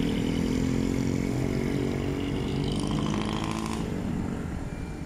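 A motorcycle runs steadily near a roadside stop in Cabuyao, Laguna, its engine droning loud and constant before easing off slightly at the end, with no voices.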